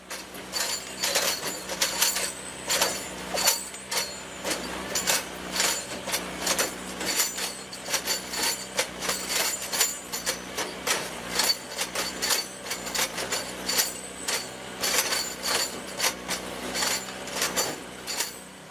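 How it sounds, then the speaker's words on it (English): Clanking metallic strikes and scrapes as a spike puller lifts spikes from old jointed railway rail during track maintenance, a busy, continuous run of ringing knocks over a low background hum. "Here we see a spike puller lifting the spikes out of the old rail."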